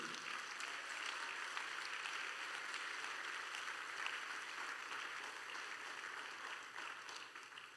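A church congregation applauding, a faint, steady wash of many hands clapping heard from a distance, sustained evenly and slowly tapering off near the end.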